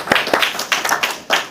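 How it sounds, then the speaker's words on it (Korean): Sparse, uneven clapping from a small Sunday worship congregation at an artillery brigade's military chapel, a handful of separate claps and short bursts rather than sustained applause. "우리 감사의 박수 한번 올려드립시다"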